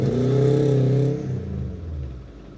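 A Porsche 718 Cayman GTS with a 4.0-litre flat-six, rear-wheel drive, revs loudly and steadily with a rich harmonic drone, then the engine note drops and settles into a lower rumble.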